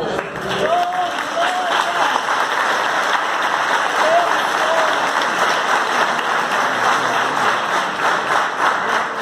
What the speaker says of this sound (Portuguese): Ele deveria pelo menos aplaudir